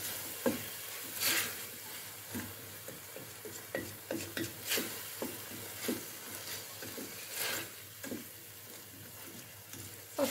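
Mushroom soup ingredients fry in an ordinary pot, a soft sizzle under repeated stirring scrapes and clicks, near and moderately quiet, no speech.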